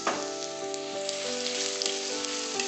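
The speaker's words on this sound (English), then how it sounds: "Now I am going to saute it well." Chopped onions, shallots, curry leaves and green chilies sizzle steadily in a hot pan for prawn thokku, a continuous close frying hiss with no voices.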